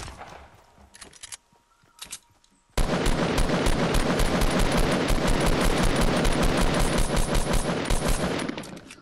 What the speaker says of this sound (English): More shooting.